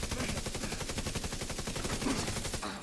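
Rapid automatic gunfire in a shooter game, a loud, dense burst of evenly spaced shots rattling on for nearly three seconds without pause.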